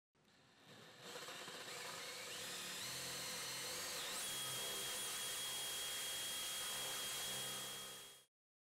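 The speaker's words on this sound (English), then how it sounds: "measure and drill the 1-inch hole completely through the right side rail" A power drill bores a 1-inch hole straight through a wooden side rail of an adjustable Murphy bed, its motor spinning up into a steady high whine that holds for several seconds before stopping.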